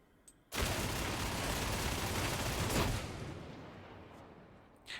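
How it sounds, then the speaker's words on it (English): A machine gun fires in Warhammer 40,000: Darktide, one continuous rapid burst lasting more than two seconds, loud and close, then a rattling tail that fades away gradually. "I'm gonna shoot a Reaper over here, ugly one"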